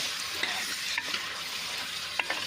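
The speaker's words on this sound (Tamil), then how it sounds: "நம்ம வெட்டி வச்ச சிக்கன் எடுத்து உள்ளே சேர்த்துக்கலாங்க" Cut country chicken being stirred into a frying curry, a close steady sizzle with a few sharp clicks of the spoon against the pot.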